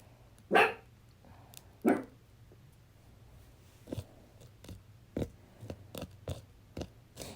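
A dog barks indoors in a newly moved-into home, two loud sharp barks near the start followed by a run of quieter, shorter yaps spaced irregularly over a low background hum.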